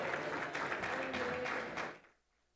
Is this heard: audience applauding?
yes